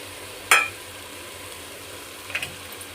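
Soaked chickpeas tipped into red fried masala for chhole, one sharp clink of a utensil against the pan, then a low steady sizzle with a second light tap.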